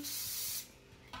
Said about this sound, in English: bit of hairspray.